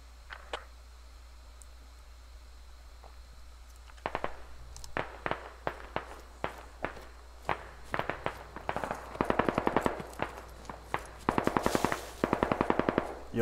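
Video game gunfire with sniper rifle and handgun in play: sparse sharp shots at first, then growing into dense rapid bursts and volleys, loud and close over a low background hum.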